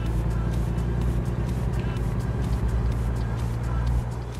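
Truck engine in American Truck Simulator drones steadily at close range, a loud low rumble with a constant hum holding for the whole stretch and easing slightly at the end.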